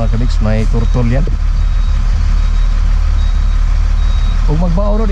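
A truck with a rear differential fault rumbles loudly, its heavy low engine drone steady throughout, while someone talks over it near the start and end.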